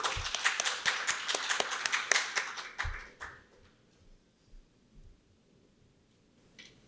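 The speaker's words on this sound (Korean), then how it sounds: "큰 박수 부탁드립니다." Audience clapping at a ceremony marking a publication's fifth anniversary and book launch, a dense burst of many hands that lasts about three seconds and then cuts off into a quiet room.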